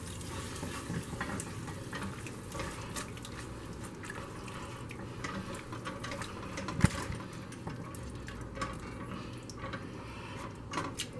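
A white wine sauce seasoned with salt and pepper simmers and reduces in a pan, giving a steady close sizzle and gentle bubbling with faint drips and one sharp clink partway through.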